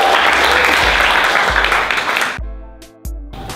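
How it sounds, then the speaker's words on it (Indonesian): Rap class students get a loud round of applause that carries on for a couple of seconds before cutting off, with a different, tonal sound taking over afterward. "Tepuk tangan buat kalian semua."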